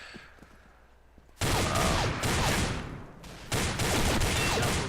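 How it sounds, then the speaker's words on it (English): A ParaFal rifle in the Combat Arms shooter game fires in rapid, loud bursts, starting after a quiet stretch and running in two dense volleys with a brief pause between them, close and harsh, with no voices. "Just perfect tap firing right there."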